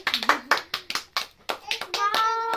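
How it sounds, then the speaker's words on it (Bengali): A small group, children among them, claps hands at a girl's birthday gathering, giving a quick run of uneven claps that builds toward the end, with some voices mixed in. "এই দেখো ইয়ে সবাই হাততালি দাও"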